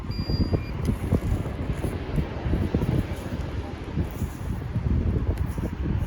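Strong outdoor wind buffeting the microphone during metal detecting, a steady loud rumble with gusty thumps throughout.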